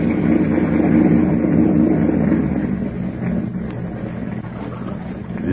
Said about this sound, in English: Suddenly, the thick silence is broken by the low purr of a motorboat engine.